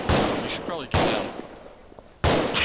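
Gunfire in the Arma 3 video game, three sharp loud bursts spaced apart, with players talking briefly between the shots.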